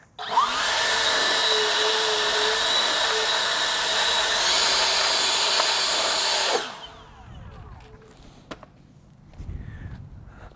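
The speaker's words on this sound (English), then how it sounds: "first step, like I said, it's going to be just blowing off the mat, just making sure there's no dust or anything left" Compressed air blower roars steadily and loudly at close range, blowing dust off a rubber car floor mat from a 2021 Volkswagen, then cuts off abruptly, leaving faint handling noises and light clatter.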